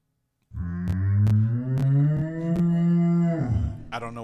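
A loud cow moo sound effect played during a live radio show, one long, close, sustained lowing call that starts abruptly and fades into a short tail, with no talking over it.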